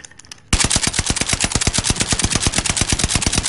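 Rapid automatic gunfire from a gun in a PS4 shooter, a fast steady burst of loud close shots after a short quiet start.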